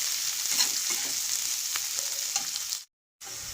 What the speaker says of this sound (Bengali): দেখুন পেঁয়াজগুলো লাল লাল করে ভাজা হয়ে গেছে